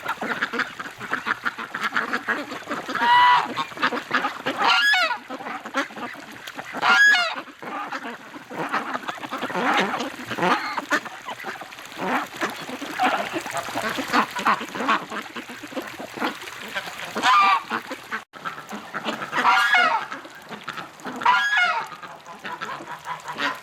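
Farm geese honk and ducks quack near their pen by a creek, the calls coming in loud irregular bursts over a continuous background of lower flock chatter, close at hand.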